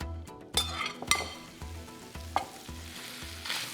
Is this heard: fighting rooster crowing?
no